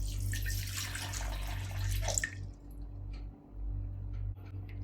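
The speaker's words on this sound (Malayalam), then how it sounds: "ആദ്യം തന്നെ നമുക്ക് മിക്സിയുടെ ജാറിലേക്ക് ഒരു കപ്പ് വെള്ളം ഒഴിച്ചു കൊടുക്കാം" A cup of water is poured into a mixer grinder jar, a bright splashing pour lasting about two seconds over a low steady hum, then a few faint drips and clinks.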